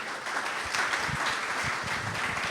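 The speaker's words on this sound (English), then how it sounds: "Let's give another round of applause for our first two speakers." Steady crowd applause rises for speakers at an agricultural technology talk on small-scale farms, a dense wash of many hands clapping at moderate loudness throughout.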